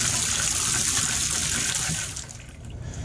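Water gushing from a tap and running down a shower drain just cleared with a DIY sewer jetting kit, a steady splashing flow that eases slightly toward the end.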